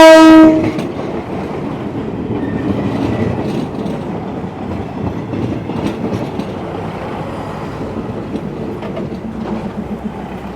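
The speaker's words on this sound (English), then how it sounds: "Right here in the market, we got a train coming" A train horn sounds briefly, followed by the steady rumble and clatter of rail cars rolling past close by through Talat Phlu market in Thailand.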